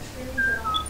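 A short, bright two-note whistle from the player character in Serious Sam: BFE, thin and clear over a faint game background.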